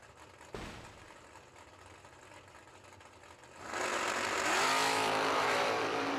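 Chevrolet drag race cars idle at a drag strip, then launch with a loud, rising engine roar that swells abruptly partway through and holds steady to the end.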